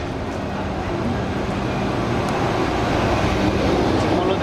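Tirupati–Sai Nagar Shirdi special express train rake moving on the rails, a loud, steady, dense rumble of wheels and carriages that fills the whole stretch with no break.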